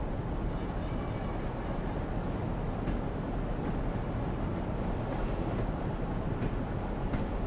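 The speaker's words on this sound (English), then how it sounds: "Oh, that train's moving." A train from the Train Sim World 2 game on the Huddersfield to Leeds route rolls along with a steady, loud rumble throughout, broad and continuous, with no voices over it.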